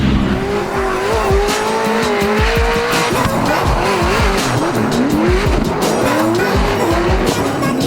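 A race car on a qualifying run in Seattle screams past close by, its engine rising and falling through gear changes alongside squealing, skidding tires, loud and continuous.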